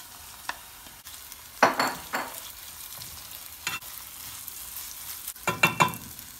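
Rice is added to onions browning in a pan, giving low background frying with a few bursts of stirring and scraping sizzle, the loudest cluster near the end.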